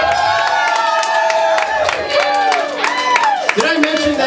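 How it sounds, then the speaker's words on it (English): A crowd at a live carnival-style music show claps, cheers and whoops, loud and close, and lively voices shout over the applause. "Give Emma a big round of applause"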